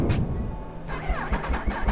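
A motorcycle engine turns over and catches, settling into a low rumbling idle with some revving pulses, close by.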